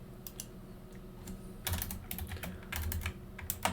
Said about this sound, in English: I'm going to type in interface gig